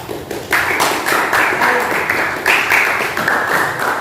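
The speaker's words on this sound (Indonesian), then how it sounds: "Oke, tepuk tangan buat." A group claps together in steady applause, dense and close, lasting throughout without talk.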